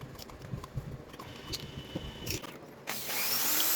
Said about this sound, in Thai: นำกระป๋องกาแฟครับมาเจาะ เจาะรูนะครับ